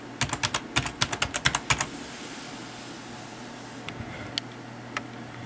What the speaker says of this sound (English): we're going to type regedit.